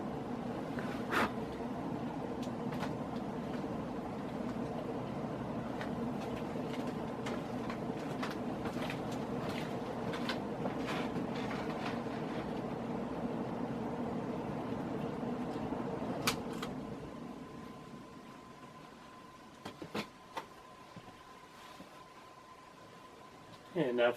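A vintage R&M Hunter Original ceiling fan runs steadily at speed, giving a continuous low hum and whir that fills the first sixteen seconds, then drops away to a quieter background with a few faint clicks.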